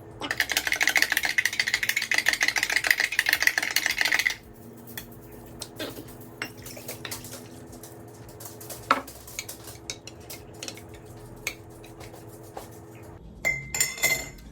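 A spoon rattles quickly against a glass while stirring a lumpy keto drink mix, a fast close clinking for about four seconds. Softer scattered taps and clinks follow, then a brief louder burst at the end. No one speaks.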